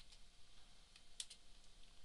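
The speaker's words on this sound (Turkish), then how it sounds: "Ve klavyeden 23 X yazıyorum." Quiet keystrokes on a computer keyboard while entering a value in SketchUp 3D modeling software: a few light, scattered clicks with one sharper tap near the middle, soft and close, without speech.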